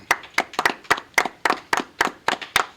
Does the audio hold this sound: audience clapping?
yes